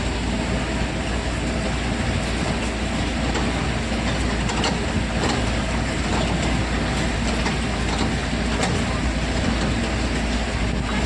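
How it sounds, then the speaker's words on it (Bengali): Constant interior rumble of a moving passenger train, with a steady low drone, faint rhythmic clicks and rattles, and a continuous hiss throughout, with no voices. "ট্রেনে বসে আছি, ট্রেন থেকেই ভিডিওটা করছি।"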